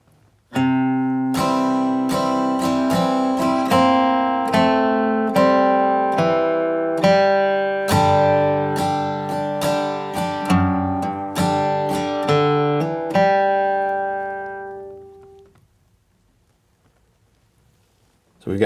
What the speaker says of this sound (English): So we've got some picking and strumming going on in this line.